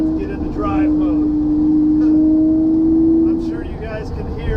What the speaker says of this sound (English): I'm sure you guys can hear the power of that engine right now.